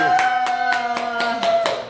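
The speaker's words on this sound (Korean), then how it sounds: "박수." Slow, evenly spaced hand claps, about eight over two seconds, ring out close and fairly loud with a sustained musical tone underneath, at a Korean broadcast segment about protein shakes and exercise.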